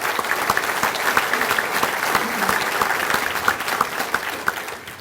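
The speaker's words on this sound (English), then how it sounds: "Let's give these folks a round of applause." A dinner crowd at a touchdown club meeting applauds its founders and board members with sustained, fairly loud clapping, individual claps audible throughout the few seconds.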